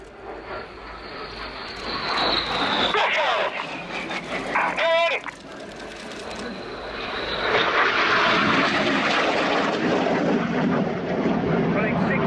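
BAE Hawk T1 jets of the Red Arrows display team roar overhead at the RIAT 2017 airshow, a loud engine drone that swells, fades briefly and builds again into a sustained rushing pass, with voices heard faintly over it.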